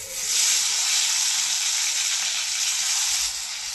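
Chopped tomato hits hot mustard oil already used for frying potatoes and tempered with nigella seeds, setting off a loud, dense, continuous sizzle that stays close and steady, then eases slightly near the end.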